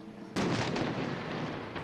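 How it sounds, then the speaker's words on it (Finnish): Cannons aboard a ship in Swedish colours fire a salute off Helsinki, a single loud booming report that rolls on and rumbles for well over a second, with no voices. "Ruotsin väreissä oleva laiva kaartoi tänään tykit jylisten kohti Helsinkiä."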